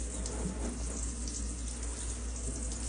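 Tap water runs over a part of a Nurture Right 360 egg incubator held above a sink for a light rinse, a steady hissing splash with a low background hum, close and continuous.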